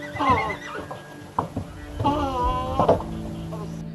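A horse whinnies loudly and close by, with two or three long wavering neighs in a row, each one rising and then trailing off.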